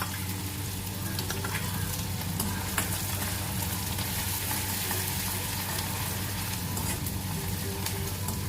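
Finely chopped onion sautéing over a low flame for butter beans masala, a continuous even sizzle with faint stirring throughout, close and unbroken, no voices.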